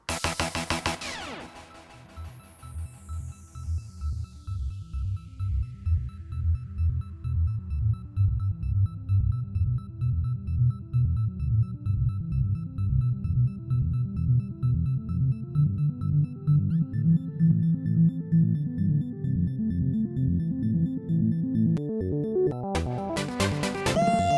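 A repeating synth arpeggio with pulsing low notes, its tone gradually brightening as an automated low-pass filter cutoff opens, steady and loud throughout.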